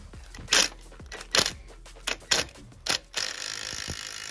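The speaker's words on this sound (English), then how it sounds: "I'm using a 15mm socket and a 19mm spanner to take off the pivot bolts" A 15mm socket and 19mm spanner work the tight rear axle pivot bolts on a Ford Fiesta Mk6, giving five or six sharp, close metallic clicks and knocks at uneven intervals, then a brief scraping rattle.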